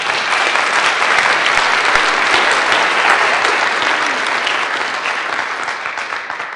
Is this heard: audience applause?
yes